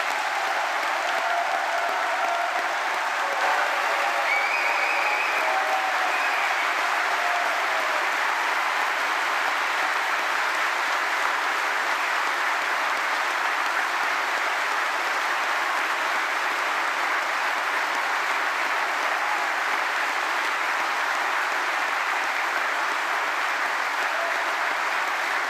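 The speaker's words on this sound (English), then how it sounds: "Could everyone please join me in wishing all of our new graduates congratulations with a big round of applause" A graduation ceremony audience claps for the new graduates in a long, dense round of applause that stays steady and sustained throughout.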